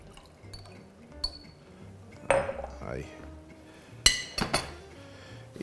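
White wine being handled while cooking bacalao a la vizcaína, with glassy clinks of bottle and jar, a brief liquid pour and scattered clatter of kitchenware, faint talk in between.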